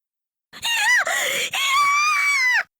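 A character in the visual novel game Steins;Gate screams at the top of his lungs, clutching his head and falling to his knees: a loud, close, anguished wail in two long breaths with a brief break between them.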